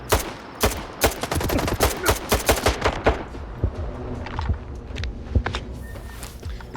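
Bursts of AK rifle gunfire in the S.T.A.L.K.E.R. 2 video game, with rapid full-auto shots early on that thin to scattered single cracks and distant echoes.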